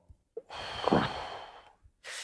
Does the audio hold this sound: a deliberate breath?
yes